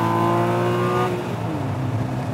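A 2013 Porsche 981 Boxster with a loud exhaust revs its engine, a high rising engine tone that drops away as it shifts, with a steady heavy roar underneath, close and loud.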